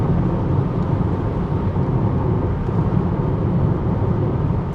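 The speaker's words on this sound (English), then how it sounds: "just you and the engine noise of your car." Steady car engine drone while driving slowly on the rainy Magoebaskloof Pass in South Africa, a continuous low rumble with road and rain noise and no talk.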